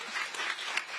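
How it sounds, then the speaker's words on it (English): Audience applause at a Seattle CityClub public forum, a brief steady burst of many hands clapping at moderate distance, fairly soft, with no talk over it. "give him a round of applause"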